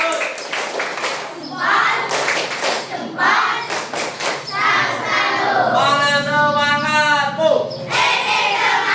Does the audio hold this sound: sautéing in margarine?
no